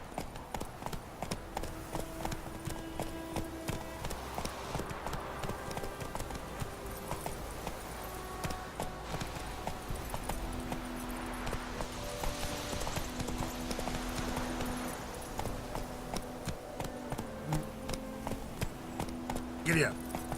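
Rhythmic hoof clip-clop of a horse running in The Witcher 3 video game, steady and close beneath game dialogue and background music.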